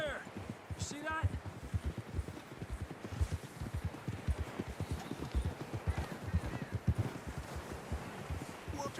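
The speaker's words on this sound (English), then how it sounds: "John was riding that horse when we left Blackwater." Horse hooves galloping in Red Dead Redemption 2, a steady rapid clip-clop rhythm running throughout, close and fairly loud, with voices talking and calling out over it.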